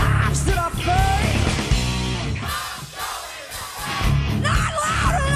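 A concert crowd screams and yells loudly, a dense roar of many voices mixed with loud music, dipping briefly in the middle before surging again.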